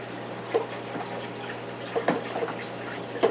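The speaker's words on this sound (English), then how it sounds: "Pull the pump out of the water." A magnetic drive pump lifted out of a saltwater aquarium, shedding a few quiet drips and small trickles of water back into the tank over a low steady hum.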